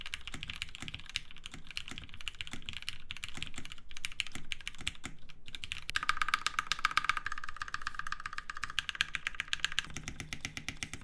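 Typing on a fully built Beak 6.5 mechanical keyboard with a top-mount feel: steady, close clicky-thocky keystrokes in quick runs, with a denser, brighter burst of rapid typing partway through and no talking.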